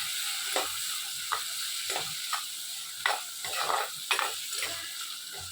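Tomatoes frying in a pan with turmeric, stirred by a spoon: a steady soft sizzle broken by a series of sharp scraping strokes at irregular intervals, close and fairly quiet, with no voices.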